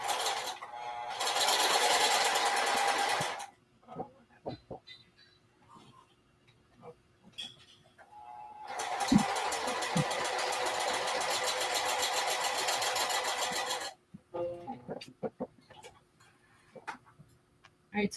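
A sewing machine stitching a fabric bucket hat runs in two loud, steady buzzing bursts of several seconds each, close up, separated by quieter stretches of small clicks and handling noises.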